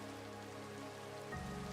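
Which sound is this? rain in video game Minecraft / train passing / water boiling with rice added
rain in video game Minecraft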